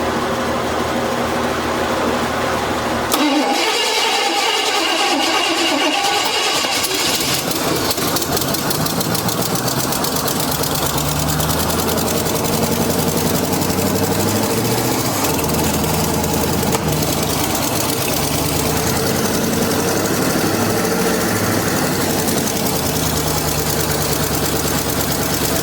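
An old, neglected Chevy C10 truck engine, restarted after sitting, runs loud and close with a flooding carburetor, holding a rough, steady idle with knocking and vibration throughout and no voices.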